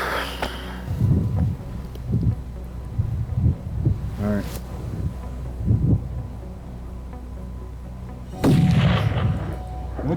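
A single rifle shot fired at a bull about 400 yards away rings out once with a sharp crack and a rolling echo, amid wind and outdoor rustling, followed by a second loud burst of noise later.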